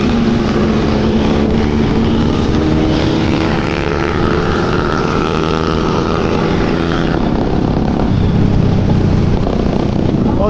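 A Kawasaki Ninja motorcycle rides alongside on an Independence Day group ride in Kolkata, its engine a loud, sustained roar that swells and shifts pitch, blended with wind rush.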